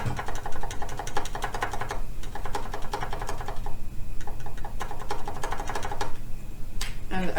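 Keys on a budget hotswap ID80 mechanical keyboard with NK Cream switches, still without its back case or foam, clack in a dense, fast stream with a few short pauses. The sound is close and hollow.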